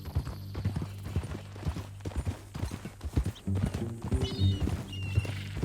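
Horse hooves clip-clopping in a steady walking rhythm in Red Dead Redemption 2, close and moderately loud, with a few heavier thuds and faint background game sounds, no talk.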